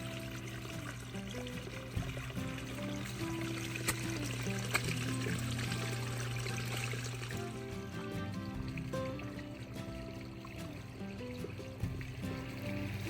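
Water runs steadily from a garden fountain, a continuous pouring trickle heard up close with no voices over it.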